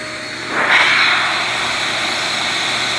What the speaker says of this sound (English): I want to see what it does unrestricted.